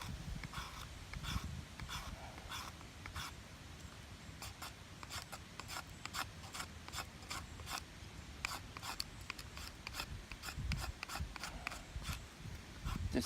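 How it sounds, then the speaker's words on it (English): A carbide scraper scraping fatwood, giving a steady run of short, dry rasping strokes in quick rhythmic succession, close up and fairly quiet, with no voices. "you just scrape it like this. This carbide scraper works so well because it actually is designed to cut steel."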